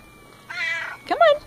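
A house cat gives two close, clear meows, the first drawn out and the second rising and slightly louder, separated by a short pause; no one speaks.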